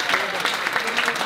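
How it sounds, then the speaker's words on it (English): A roomful of guests at a cancer charity fundraiser applauds a pledge, a brief, busy burst of clapping with voices underneath. "Come on, round of applause"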